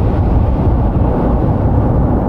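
Deep cosmic rumble from the early universe, pitched up into the audible range: a steady, dense roar heavy in the low end, continuous and unbroken, with no voices.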